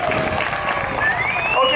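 Crowd applauds at an outdoor buskers festival in Sentosa, Singapore, a brief, dense burst of clapping with cheering voices and a high whistle-like tone rising above it.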